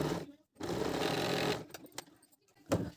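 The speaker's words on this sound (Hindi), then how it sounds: "इसको हम धागे को हम काटेंगे नहीं, बल्कि इसको ऐसे फोल्ड करके डबल सिलाई करेंगे।" A sewing machine double-stitches a folded seam on a woolen salwar, running in a steady close whir for about a second, then slowing into short bursts and clicks with brief pauses.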